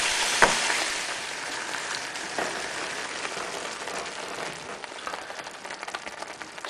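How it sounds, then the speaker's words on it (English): Lamb mixed with homemade curry paste sizzles and fries steadily in a pan, a continuous hissing crackle that stays loud throughout with a sharp clatter near the start. "I'm going to add the paste that we made earlier and mix it up with the lamb and cook it for around about 10 minutes"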